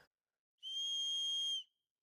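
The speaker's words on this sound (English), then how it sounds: "That is a good whistle." A single shrill whistle from a cheap survival bracelet kit is blown once for about a second, clear and steady, with silence before and after.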